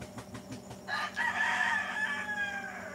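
A rooster crows once, a long loud cock-a-doodle-doo close by, following some faint clucking and rustling.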